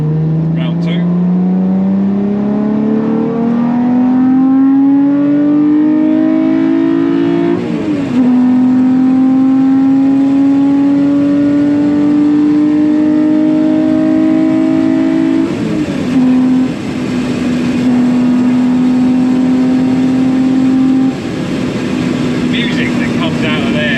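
A Toyota MR2 with a 3.5 V6 engine swap revs loudly and close, its pitch climbing smoothly through several long pulls, with brief dips between them.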